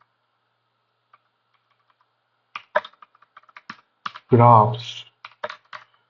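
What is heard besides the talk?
typing on a computer keyboard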